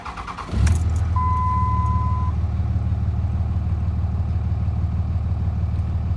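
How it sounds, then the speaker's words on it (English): A Cummins diesel pickup with 257,000 miles fires up after a brief clatter and settles into a loud, even, rumbling idle with steady exhaust drone, close by and alone, a short beep sounding early on. "The exhaust sounds good. The engine doesn't make any bad noises or anything."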